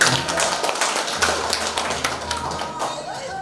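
An audience at a Korean cultural event breaks into dense, crackling applause as an author is introduced, a steady patter of many hands that stays close and lively throughout.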